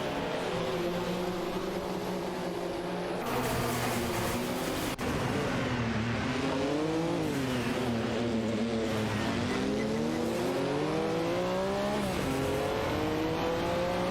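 Race car engines roar in a racing video game featuring a Porsche 961 and a Chevrolet Camaro, loud continuous revving whose pitch climbs and falls through gear shifts, with several cars layered close together.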